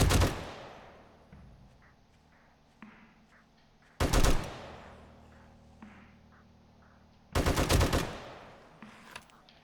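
Gunfire in the 7 Days To Die Alpha 18 video game: three loud bursts of rapid shots spaced a few seconds apart, each decaying into a reverberant tail, with a few fainter thuds between.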